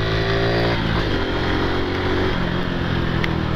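A Honda Pop 110 motorcycle engine pulls uphill in second gear after a speed bump, a loud, close, continuous drone that holds steady throughout with no talk.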